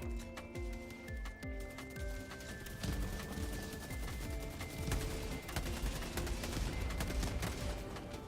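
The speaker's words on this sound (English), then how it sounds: "Huh, what's up with all the explosions?" Rapid gunfire and explosions from the video game Helldivers 2, a dense continuous barrage of overlapping shots and blasts with faint tonal game music underneath, loud and without pause.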